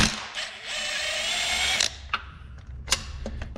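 A ratchet works a starter bolt loose on a Chevy Malibu, with a quick run of rapid clicking followed by a few separate, sharp clicks and clanks close by.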